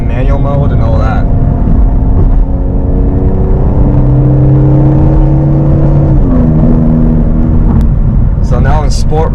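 An Infiniti Q50 in sport mode drops through gears on its own, the engine hum stepping and shifting pitch, while someone talks loudly over it.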